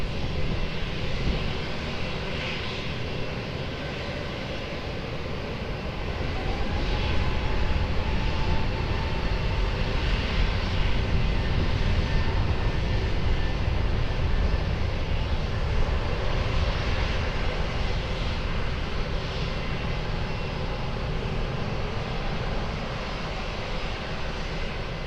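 A fixed-wing airplane takes off from runway 20 at Lisbon Airport, its engines rising into a broad, sustained roar heard from a distance that swells midway and then holds steady, with no voices present.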